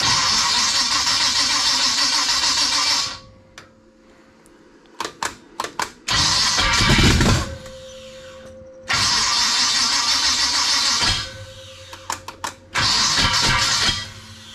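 An abandoned 1956 Chevy wagon engine that sat motorless for years cranks and catches, running loud and rough in two long bursts, with clanking knocks and exhaust banging in the pauses between runs.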